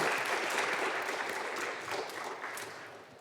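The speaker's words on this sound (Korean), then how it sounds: "우리 감사와 격려의 박수 한번 드리겠습니다" A church congregation at an Easter Sunday service applauds the choir and orchestra, a dense, even burst of clapping that gradually tapers off over about three seconds.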